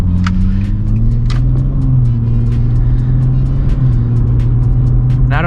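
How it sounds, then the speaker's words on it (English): An Infiniti G35 with a muffler delete cruising along, its exhaust a steady, loud low drone that rises and falls slightly with the throttle, continuous throughout with no talking. "you can definitely hear that muffler delete. It sounds pretty good"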